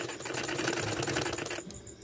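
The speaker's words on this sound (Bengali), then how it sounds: "আমি সব কয়টা সেলাই দিয়ে নিচ্ছি এক এক করে" A sewing machine runs a rapid, steady stitching burst through folded pleats on a blouse sleeve, close and continuous, then stops abruptly near the end.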